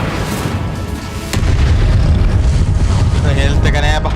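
Incendio fire spell cast in Hogwarts Legacy: a sudden loud whooshing burst lands, then a heavy, sustained roaring rumble follows over a windy, boomy game soundscape, with a brief bright swirl near the end.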